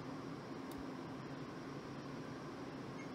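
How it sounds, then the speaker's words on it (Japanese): Steady roar of an electric fan on strong mode blowing straight onto a Victure AC940 action camera, a constant broadband rush of wind noise with faint rumbling buffeting, close and unbroken. "はい、風をね強風モードにしたやつを直接当てています。"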